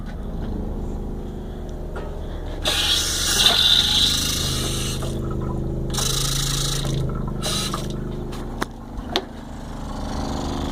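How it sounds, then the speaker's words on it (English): A small electric water pump in a 1987 Toyota Sea Breeze RV hums steadily while water gushes in bursts, with a few clicks and knocks nearby. "We'll put on the water pump."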